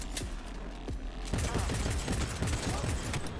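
Rapid pistol fire in the video game Cyberpunk 2077, a dense run of sharp, loud shots that picks up after the first second and keeps going over steady combat background noise.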